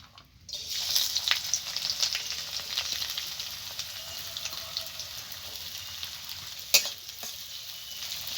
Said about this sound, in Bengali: তেল গরম হয়ে গেছে আমি এবার পেঁয়াজ পেঁয়াজ কুচি আর কাঁচা লঙ্কা চিড়ে নিয়েছি এটা দিয়ে দেবো